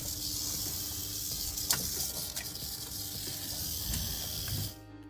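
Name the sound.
rattlesnakes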